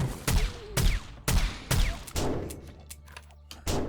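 Gunfire in the zombie survival game 7 Days to Die, with several sharp shots at steady half-second spacing, loud and close, before the weapon falls silent and a faint low hum remains.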